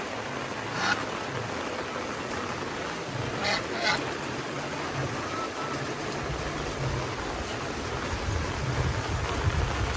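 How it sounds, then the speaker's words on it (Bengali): Continuous rain falling on a grey, overcast day after a cyclone, a steady, even hiss with no breaks and a few goose honks in the distance. "কন্টিনিউ বৃষ্টি চলছে সকাল থেকে এরকমই"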